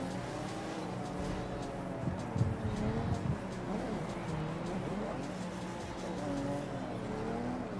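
A game car drifting in The Crew 2, its engine droning and sliding tires whining at moderate distance, rising and falling through the turn without a break.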